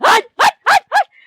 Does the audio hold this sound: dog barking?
yes